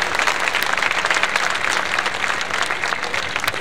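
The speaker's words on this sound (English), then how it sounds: "Let's give our girls a round of applause." A large crowd at a school pep fest applauds continuously and loudly, a dense roar of clapping with little talk.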